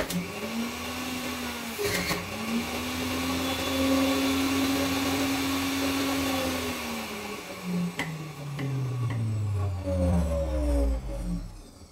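Electric juicer running while juicing fruit, a steady whirring motor hum that holds and then winds down with falling pitch toward the end, loud and close with no voices.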